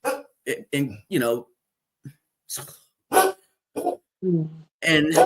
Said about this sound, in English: the dog in the background acting a fool